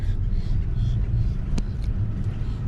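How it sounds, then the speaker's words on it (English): A four-wheel-drive vehicle heading onto the beach at Peters Point Park, Florida, gives a steady, close, low engine and road rumble throughout, with one brief sharp click midway. "Time to hit the little 4-wheel drive switch."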